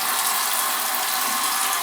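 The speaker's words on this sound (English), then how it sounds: "Turn the water off." A tap runs steadily into a sink during hand washing, a continuous close hiss of flowing water with no voices over it.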